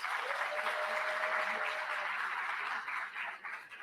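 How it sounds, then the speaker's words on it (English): A conference audience bursts into loud, sustained clapping that holds steady for several seconds before thinning out toward the end. "Give them a round of applause."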